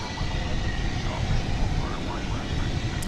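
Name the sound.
Qantas flight 8 Boeing 787-9 jet at DFW Airport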